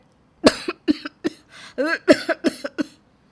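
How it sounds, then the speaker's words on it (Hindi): A man coughs repeatedly in a rough, rapid series of bursts, close and loud, with short gaps between coughs. "आपको बड़ी खांसी आ रही है।"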